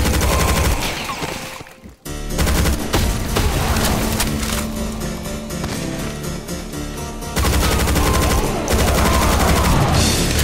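Chaingun and rifle fire in the video game Doom with the Project Brutality mod, map Caribbean, pounds away in loud, continuous rapid bursts, broken by one sharp pause early on before the barrage resumes.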